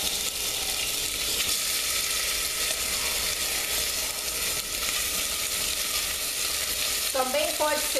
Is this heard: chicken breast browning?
yes